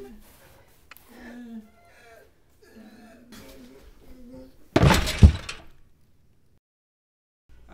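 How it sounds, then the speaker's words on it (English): A loud crash of glass being struck and broken in a comedy sketch, one heavy impact with a brief shattering burst, following stretches of animated talking. "I am hitting the glass!"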